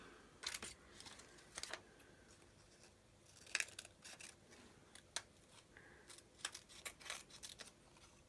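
Scissors snip roughly around a piece of card or paper during stamping and masking craft work, giving close, quiet, irregular snips spaced over several seconds with no talk.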